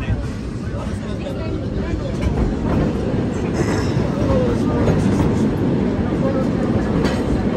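A mine train on the Walt Disney World Railroad rattles and rumbles steadily along its track, loud and close, with a dense low roar throughout.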